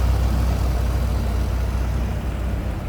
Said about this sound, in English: Smooth running, don't hear any lifters, anything like that ticking. Doesn't sound like exhaust leak.